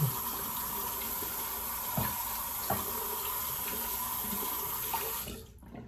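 Tap water running into and rinsing out a shaving bowl while hands are rinsed, a steady close splashing stream with a few clunks of the bowl, stopping abruptly near the end, no talking.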